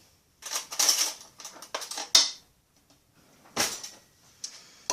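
A spoon fetched from a cutlery drawer in a home workspace: bursts of bright metallic rattling and clinking as utensils shift, with a sharp clack midway and brief quiet gaps between, close and fairly loud.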